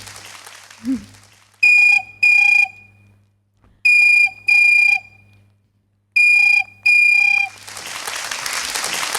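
A voice mimics an old landline telephone ring at a comedy show, buzzing double trills repeated three times with pauses between, clear and close.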